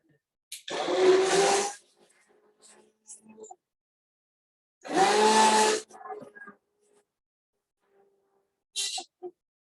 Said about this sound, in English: So I'm going to use my handy immersion blender.